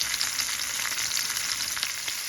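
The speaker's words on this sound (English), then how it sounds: "So right now it's frying." Sardines sizzling in a pan of hot oil, a steady crackling hiss with scattered sharper pops, close and fairly loud.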